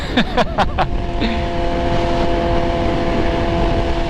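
Yamaha R6 sport motorcycle engine droning at steady high revs while pulling a first-gear wheelie, with a few short sharp bursts near the start and a loud, continuous engine tone after.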